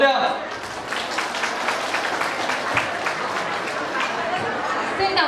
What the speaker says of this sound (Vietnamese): Hãy cùng dành một tràng pháo tay thật lớn đi ạ.